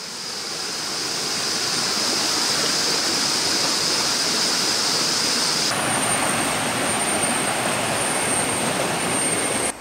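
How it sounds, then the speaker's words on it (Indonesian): A river flows beside a campsite in Malaysia, a loud, continuous rushing of water that holds steady and close for about ten seconds with no voices. "Sungai di belah kanan kita."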